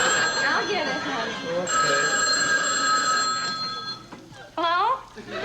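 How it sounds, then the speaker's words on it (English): A telephone rings loudly with a sustained electronic bell tone in a comedy stage setting, while people talk over it and audience noise rises around it. "Don, this phone still doesn't work."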